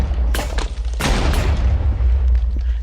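Handgun shots from a hunter in Minecraft with the Hexxit modpack, a few sharp booming reports at close range over a steady low game drone.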